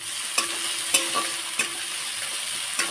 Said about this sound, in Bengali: পেঁয়াজটা একটু ভাজা ভাজা করে নিয়েছি